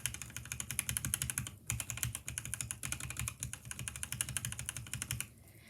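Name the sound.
typing on lubed Akko Jelly black keyboard switches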